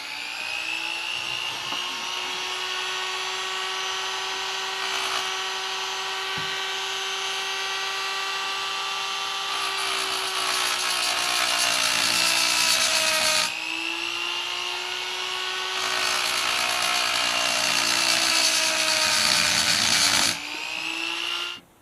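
A power drill bores a straight line through a bolt on a Yamaha FZ6R motorcycle ignition, its steady high whine holding for over twenty seconds, rising louder in two stretches and briefly easing between them, with no talking.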